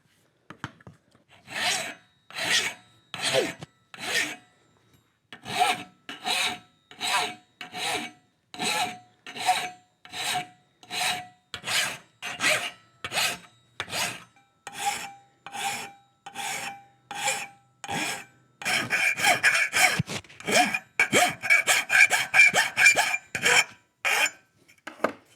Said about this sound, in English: So a little more filing.